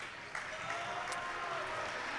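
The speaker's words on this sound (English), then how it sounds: "the starters will come out to a round of applause from the Maverick faithful" At a boys high school basketball game, Velva at MLS, the gym crowd breaks into a short burst of applause after a quiet moment, a steady clapping wash that is moderately distant and carries on to the end.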